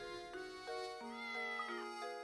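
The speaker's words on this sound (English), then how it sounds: "Lady Dahlia's cat, has escaped and now has been rescued" A cat meows repeatedly in the video game Professor Layton and the Curious Village, several clear, tonal game-sound meows in quick succession, heard alone at moderate volume.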